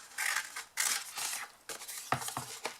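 Scissors snipping along marked card lines while cutting out a triangle gift box, a series of crisp close cutting strokes in short bursts with brief pauses between them.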